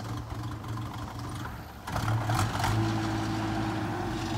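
The engine of a 1978 Toyota Wolverine 4x4 truck, whose carburetor may need cleaning, idles nearby and then rises to a louder, rougher roar as gas is added partway through.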